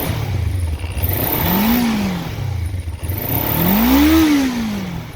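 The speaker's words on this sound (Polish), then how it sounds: "Schodzi ładnie z obrotów, ładnie się wkręca na te obroty." A Kawasaki ER-5 motorcycle engine, freshly serviced, revs twice from idle, each time climbing smoothly to a peak and dropping back down, loud and close with a rough idle burble between.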